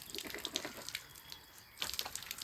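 Pipe tap water splashes in bursts as someone washes their face at a bamboo shed in Wayanad, faint intermittent dripping and splashing with short pauses between.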